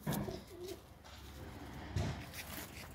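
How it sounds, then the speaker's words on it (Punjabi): A pigeon kept in a loft in Moga, Punjab, gives two soft, low throaty coos about two seconds apart, close to the microphone in a quiet setting. "ਇਹ ਹੈ ਜੀ ਇੱਕ ਹੋਰ ਕਬੂਤਰ ਆ ਜਿਹੜਾ ਕਬੂਤਰੀ ਨਾਲ ਲਾਇਆ ਹੋਇਆ"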